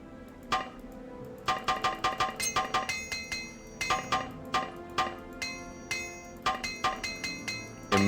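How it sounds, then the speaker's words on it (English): Repeated bright metallic clinks from item repair in the game Morrowind, struck in quick rhythmic bursts of several hits separated by short pauses, clear and close with no talking. "Immersive repair sounds."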